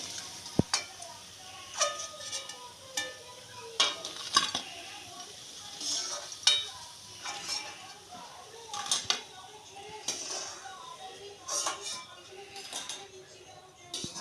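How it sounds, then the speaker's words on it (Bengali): Red lentil fritters (musur daler bora) frying in a pan, soft sizzling broken by repeated clinks and scrapes of a utensil against the pan, close by. "এরকম করে আমি সব বড়াগুলো ভেজে নেব"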